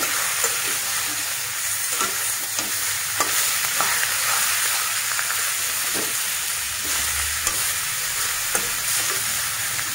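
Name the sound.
local chicken frying in a pan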